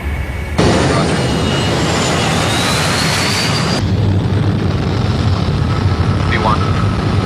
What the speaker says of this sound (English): Flight attendants, please prepare for takeoff.